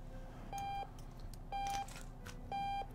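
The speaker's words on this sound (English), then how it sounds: "Better shut off that alarm clock first." An alarm clock beeps in the video game odad, sounding three evenly spaced electronic tones about a second apart, each lasting roughly a third of a second, faint over a quiet background.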